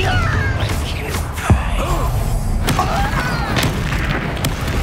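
A Confringo blast spell goes off during a fight in the video game Hogwarts Legacy, a sharp booming impact around mid-clip over a constant bed of dense combat noise and effects.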